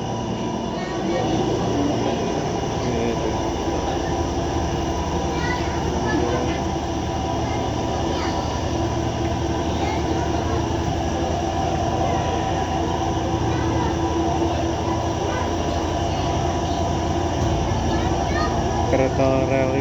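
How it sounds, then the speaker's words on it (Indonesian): A rheostatic-series electric commuter train runs continuously, a steady mechanical hum and rumble of wheels and motors with a voice talking over it throughout. "Kereta rel listrik seri rheostatik."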